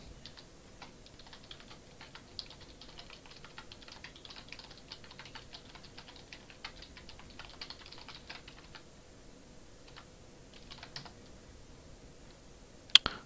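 Steady rapid typing on a computer keyboard while entering a command, a soft continuous patter of key clicks with a couple of sharper taps at the end, no speech.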